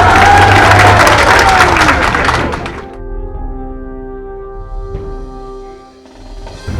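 Loud crowd applause mixed with laughter at a VS Achuthanandan campaign speech, dense for about three seconds, then dropping to a quieter, steady hum of the audience.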